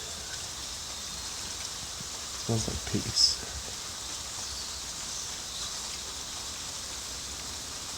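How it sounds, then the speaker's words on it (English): Steady rain falls at night, a soft constant hiss that fills the clip, with a person speaking briefly and quietly in the middle. "Can't even see the rain, but I can sure hear it."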